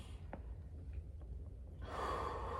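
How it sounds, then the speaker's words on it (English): A deep inhale followed by a long, breathy exhale during a massage stretch, soft and close, with faint rustling in between. "Again, inhale deeply."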